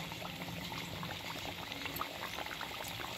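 Mathri snacks fry in hot oil, giving a dense, steady sizzling crackle that bubbles continuously at moderate loudness, close by and without talk.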